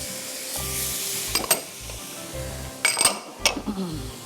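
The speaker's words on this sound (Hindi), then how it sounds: "फिर आप इसको थोड़ा सा स्टर फ्राई करिए।" Onion, mustard seeds, ginger garlic paste and tomato are stir-fried in a pan, with a low sizzle, scraping spoon strokes and several sharp metallic clinks against the pan, close up.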